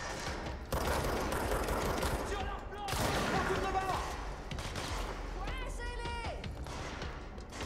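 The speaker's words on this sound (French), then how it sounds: "Sur qui il tire?" Gunfire in the game Control, bursts of shots and mechanical clatter amid a busy, noisy fight, with a voice talking over it.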